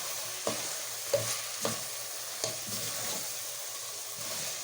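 Tomato sauce frying in a pan while it is stirred: a continuous soft sizzle broken by about five distinct spatula scrapes at uneven intervals, close and moderately quiet.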